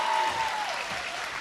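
Students applauding at a community scholarship awards ceremony, a brief burst of clapping from a crowd, fairly loud and steady, with a faint tone in the background.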